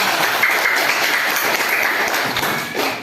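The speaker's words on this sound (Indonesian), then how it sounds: "Beri tepuk tangan untuk kita semua." A class of primary school children applauds together in a classroom during a fifth-grade maths lesson, with steady, dense clapping that carries on for about three seconds before tailing off.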